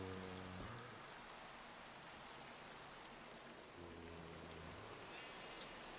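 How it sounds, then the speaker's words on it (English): Rain falls in the Minecraft video game as a steady, soft, even hiss, quiet and continuous, with a brief low tonal game sound near the start and again later. "Oh, it's raining. Yeah, it's raining."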